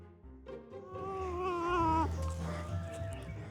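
Several cats meow close by at a cat garden in Chiang Mai, Thailand, drawn-out rising and falling calls overlapping one another, with a low rumbling background throughout.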